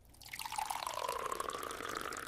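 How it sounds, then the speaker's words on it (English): Hot coffee pours in a kitchen as a steady liquid stream, rising slightly in pitch as the cup fills, close and continuous for a couple of seconds. "I head to the kitchen and pour my hot coffee."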